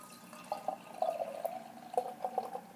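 Magnify Brewing's Frosted Flakes New England style double IPA, 2017 release, poured aggressively into a glass: a close, steady gurgling splash with bubbly pops and fizz running for almost three seconds, with no talking.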